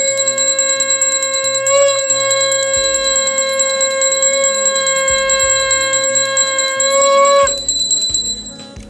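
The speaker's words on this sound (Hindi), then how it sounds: "सब घंटियां बजा दीजिएगा" Metal bells ring continuously during a Hindu puja for a baby's annaprashan ceremony, a loud, bright, overlapping jangle that shifts pitch around two seconds and fades out after about seven and a half seconds.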